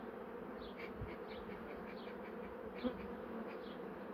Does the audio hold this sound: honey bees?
yes